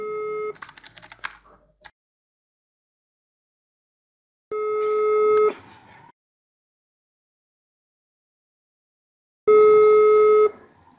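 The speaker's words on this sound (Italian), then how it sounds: "La segreteria telefonica." Telephone call tones play in a sparse sequence: a short burst of clicks and beeps, then two separated sustained tones around the ringing pattern, each about a second long, clean and loud with silence between, as a call goes through to voicemail.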